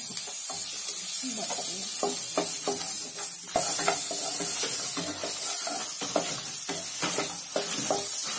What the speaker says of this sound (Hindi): मैं इसमें डालूंगी थोड़ा सा बटर फ्लेम को कम कर लेना